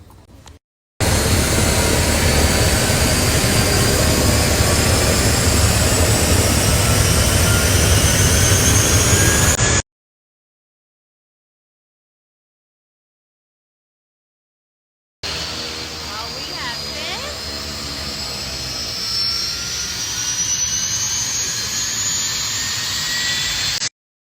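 Aircraft piston engine starting and running during a student pilot's preflight, a loud steady roar that cuts off midway, then resumes after a silent gap; a person talks over it.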